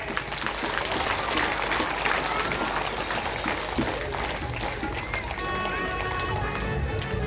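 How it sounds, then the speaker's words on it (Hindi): A crowd at a devotional katha claps steadily to welcome a tableau of Mother Parvati during a Shiva–Parvati wedding enactment; the dense, continuous clapping fills the whole stretch with faint music beneath. "माता पार्वती आ रही है, एक बार ताली से स्वागत करें"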